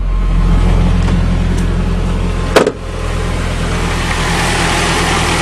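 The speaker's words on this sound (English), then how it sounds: "What a sweet old motor." An old Nissan car engine with a carburetor, left sitting through winter, runs at a steady idle close by, with a continuous low rumble and one brief knock partway through.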